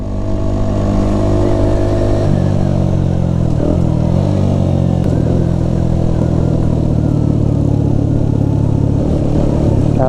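Motorcycle engine revving steadily and loudly up close for the whole stretch, the throttle blipped with a sensitive, jumpy response, likely from a faulty sensor, with a dense harmonic drone throughout and no talking.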